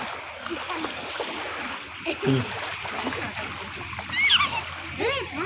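Water splashing and sloshing as small children's feet wade through floodwater after Cyclone Nivar, with children's voices and chatter mixed in throughout.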